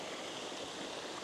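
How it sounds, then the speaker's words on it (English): A small stream and waterfall in a Lake District valley, heard as a steady, even rush of flowing water, close and continuous with no voices. "Pretty little waterfall, little stream running through it."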